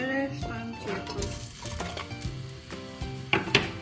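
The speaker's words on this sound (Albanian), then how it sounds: "kemi edhe vajin në tenxhere, shtojmë qepin." Onion goes into hot oil in a pot for a red lentil dish and sizzles softly under gentle stirring, with a few pot and utensil clinks and brief speech.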